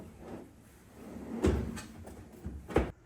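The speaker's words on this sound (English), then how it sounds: "now we're just going to go ahead and throw the drawer in" A Tuffy cargo security drawer being set into a car trunk produces soft rustles followed by two solid thuds and a few lighter knocks as it is shifted into place, close and fairly quiet.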